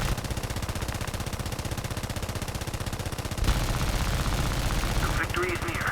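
Rapid machine gun fire in War Thunder, a dense continuous rattle of shots from aircraft guns, loud and steady, with the engine drone underneath and a second burst layered in partway through.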